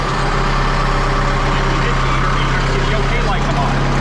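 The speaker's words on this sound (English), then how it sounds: "I'm going to turn engine on." The diesel engine of a Schwing SP305 concrete pump runs at a steady, loud idle with a deep hum and constant rumble, while a person talks over it.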